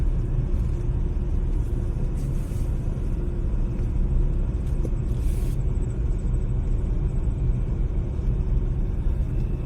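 A car engine hums quietly with a steady low rumble throughout, muffled and even, with no speech over it, at night in the Jim Corbett forest.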